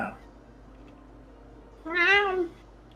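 A single clear cat meow rises and falls near the end of a quiet stretch in the game Ragnarok M, loud and close against faint background hum.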